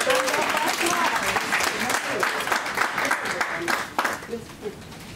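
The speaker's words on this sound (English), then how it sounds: "Hand of applause for her, please." Applause for a lecturer at a women's conference in Dallas, Texas, steady clapping from the audience with voices mixed in, thinning out toward the end.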